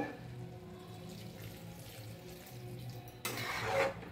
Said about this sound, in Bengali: এবার আমি জল দিয়ে দেবো। আর একটু জল দেব।